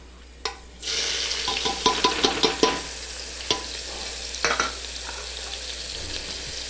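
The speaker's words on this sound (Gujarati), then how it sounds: "કાંદાને થોડા ધીમા તાપે ચડવા દેવાના." Onions hit hot oil with asafoetida and fry on low heat. A sudden sizzle starts, then holds steady beneath a series of spatula scrapes and taps against the pan.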